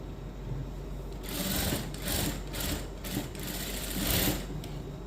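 Sewing machine stitching a prince-cut blouse, a close, steady mechanical whir rising and falling in several short runs of fast stitching over a constant low motor hum.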